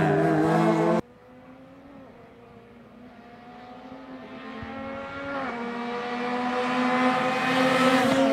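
A race car laps a circuit during qualifying for the McGregor Series at the 2019 Trois-Rivières Grand Prix. After a brief loud burst, its engine drones steadily and gradually swells louder and higher toward the end.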